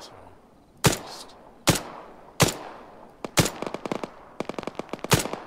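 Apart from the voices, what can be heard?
gunfire in a video game (Antistasi Plus)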